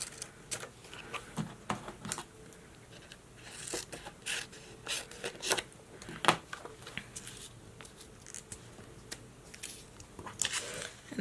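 Paper being trimmed for a shaker pocket card, a string of short, crisp snips and cuts at irregular intervals over about eleven seconds, close and fairly quiet with small rustles between them.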